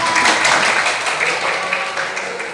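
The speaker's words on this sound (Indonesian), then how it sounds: "Tepuk tangan buat kita" Brief, even spatter of clapping from a classroom of students during a microteaching lesson, steady and fairly close, lasting only a couple of seconds.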